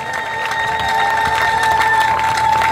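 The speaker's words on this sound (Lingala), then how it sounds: "Acclamons pour le Seigneur le Tout-Puissant" A church congregation at a Pentecost gathering applauds and cheers in praise, a dense, sustained wash of clapping and voices that holds loud and steady throughout, with a faint tonal hum running underneath.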